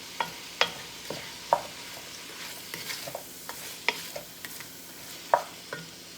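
Vegetables sweating in a pot on a stove, being stirred for a Louisiana sauce piquant, with scraping strokes of a spoon against the bottom repeating every second or so over a faint, soft sizzle, close by and without talk.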